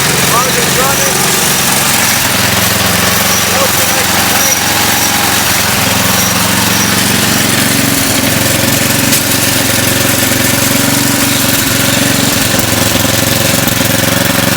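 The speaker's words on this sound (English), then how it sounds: "Auger's running." Close and loud, a Craftsman 9/24 snowblower engine runs with its auger spinning, a constant rough mechanical clatter and drone that never lets up, with a voice speaking over it.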